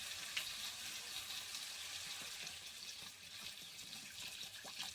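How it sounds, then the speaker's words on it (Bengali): Fish heads and fried potatoes in a pot for muri ghonto get a faint, steady stream of poured water, heard as a soft continuous hiss with light sizzle and no talking. "এবার আমি জল দিয়ে দেবো"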